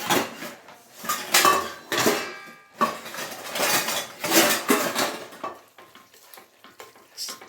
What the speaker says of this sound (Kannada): ಚೆನ್ನಾಗಿ ಈ ರೀತಿ ಮಿಕ್ಸ್ ಮಾಡ್ಕೊಂಬಿಡೋಣ